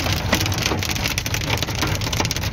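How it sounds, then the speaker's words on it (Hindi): Heavy rain and hail beating on a road between Kufri and Shimla, a dense loud patter with sharp impacts throughout, no voices. "ये देखिए ओले और बरसात, सारी सड़क वाइट हो गई है"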